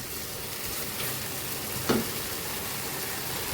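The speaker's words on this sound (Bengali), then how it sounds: "সবগুলো আমি ভালো করে কষিয়ে নিচ্ছি" Yogurt, cashew-raisin paste and poppy seed paste sauté in a pan with a steady, close sizzle, and a brief scrape of a stirring spoon is heard once.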